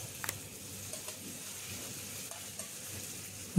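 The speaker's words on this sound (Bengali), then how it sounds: "এখন আমি এর ভিতরে দিয়ে দিব বাইম মাছগুলো।" Spiced potatoes frying in a pan with baim fish added in for a bhuna, a steady soft sizzle with a few light clicks and taps, close and moderately quiet throughout.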